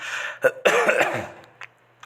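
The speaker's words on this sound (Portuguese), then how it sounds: "Tô com uma tosse." A sharp cough followed by a rough, drawn-out throat clearing, close and loud, with no talking.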